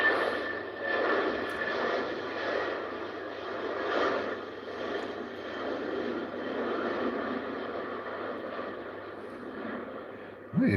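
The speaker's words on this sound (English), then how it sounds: "Takeoff speed should be about 150 knots." An Airbus A320 airliner takes off at Heathrow airport, its engines a broad, steady roar that swells and eases slightly over about ten seconds, heard from a distance and with no voices over it.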